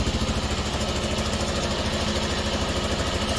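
A Honda XL125S motorcycle engine runs close by with a rapid, steady low chugging pulse. The level rises slightly as the rev is nudged up, and no one speaks.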